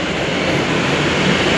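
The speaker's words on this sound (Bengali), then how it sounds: "এই তো আমাদের ট্রেন ঢুকে গেছে দমদম স্টেশনের থেকে" A train pulling into Dum Dum station on a Kolkata suburban line, heard as a steady, loud rolling rumble and rail noise throughout with no voices.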